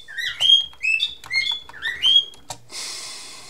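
A pet bird chirps in a room, several bright whistled notes with rising and falling sweeps in short bursts, close and clear, followed by a brief rustle and a soft hiss.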